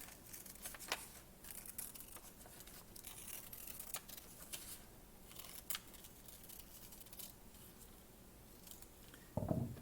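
Scissors cut around a paper apple shape, close and quiet, giving a series of soft snips and papery rustles with a louder crinkle near the end and no talking.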